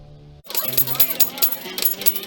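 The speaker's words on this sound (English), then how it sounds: "you hear the coins popping out?" A slot machine pays out coins: a clinking, jangling metallic rattle of coins spilling out in a steady stream, loud and close, with electronic machine tones underneath.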